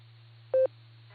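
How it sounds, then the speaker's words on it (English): A single short electronic tone sounds from an amateur radio repeater on 147.39 MHz during a Silvercreek Amateur Radio Association net, a brief steady beep over a low constant hum and faint background hiss. "please wait for the beeps"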